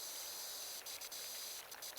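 A pressure washer sprays in the video game PowerWash Simulator, giving a continuous hissing jet with a few brief bursts and dips in the spray noise and no voices over it.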